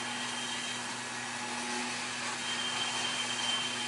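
Hot-air rework station blowing heated air across the legs of a clock generator IC on a computer motherboard, a steady close broadband hiss with a faint tonal hum, continuous and alone.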